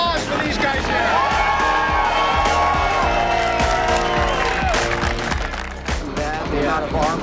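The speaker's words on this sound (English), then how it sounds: "Another round of applause for these guys here." An audience applauds and cheers loudly at a BMX and extreme sports show in Baghdad, a dense, continuous wash of clapping with crowd noise and a voice talking over it.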